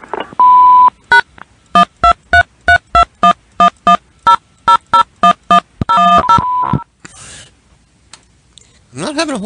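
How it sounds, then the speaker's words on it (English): Answering-machine beeps on a phone line: a long series of evenly spaced electronic tones, loud and close, followed by a short burst of hiss and a voice at the end. "Hello, leave a message after the beep."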